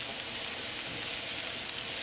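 Onion, carrots, ginger and garlic frying in a pan, a steady close hiss and crackle of sizzling with no pauses and no speech.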